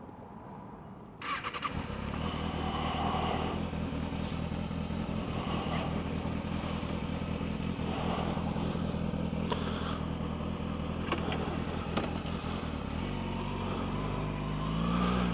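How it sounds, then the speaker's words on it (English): A Kawasaki ZX6R sport motorcycle cranks and fires up, then settles into a loud, steady, close engine rumble that swells slightly at the end, before a scenic ride on Chuckanut Drive. "We'll go ahead and get our Kawasaki started."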